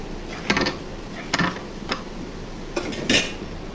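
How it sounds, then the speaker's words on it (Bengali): A metal spoon clinks against a cooking pot of egg curry, several sharp taps spaced irregularly, ending with a brighter clatter like a lid set on top; close and moderately loud. "নেড়ে ছেড়ে দিয়ে ঢেকে রেখে দিব"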